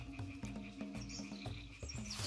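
Many frogs croak around a small pond outdoors: a dense chorus of rhythmic, overlapping croaks, steady and fairly close, with no talking.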